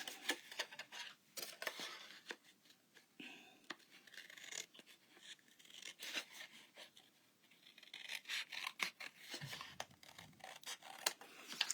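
Paper being trimmed for a handmade fun-fold card, with scattered dry rasping and scraping strokes at close range, quiet and irregular, with no speech.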